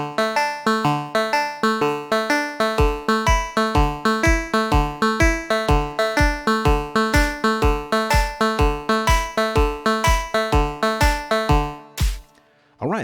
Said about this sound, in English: Today I'm going to teach you how to make a banjo type of sound